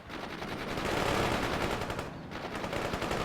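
Continuous battlefield gunfire in the real-time strategy game World in Conflict, a dense rattling barrage of shots that swells and briefly dips before resuming.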